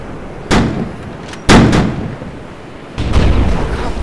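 Cannon fire aimed at merchant ships in the VR naval game Iron Wolf VR: three separate booming shots, each a sharp blast with a rumbling tail, sounding close and loud.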